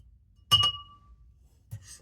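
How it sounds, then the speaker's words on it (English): A pint glass clinks sharply and close twice, first with a bright ringing tap that fades quickly, then with a softer knock about a second later, in an otherwise quiet room. "just using literally a pint glass as my water today"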